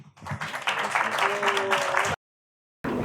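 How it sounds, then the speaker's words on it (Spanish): A conference audience bursts into sustained applause for a speaker at a critical-thinking event, dense clapping filling the room for about two seconds before an abrupt cut to silence and a brief return. "les pido por favor un aplauso a este gran ponente"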